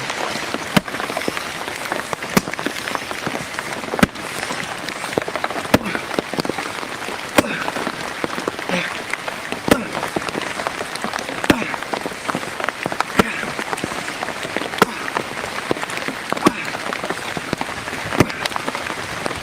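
Steady rain patters across a hard surface, with scattered sharper drops and occasional knocks punctuating the constant hiss.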